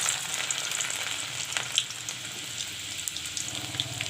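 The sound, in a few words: chopped garlic frying in mustard oil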